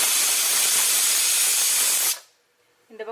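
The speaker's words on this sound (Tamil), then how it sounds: "இந்த பக்கம் நமக்கு குக்கரில் ஒரு சத்தம் வந்துருச்சு" A pressure cooker lets out a loud, steady hiss of steam for about two seconds before it abruptly cuts off, leaving near silence and a brief voice at the end.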